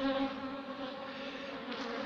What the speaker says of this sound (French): les abeilles sont un peu agacées. Elles attaquent mon téléphone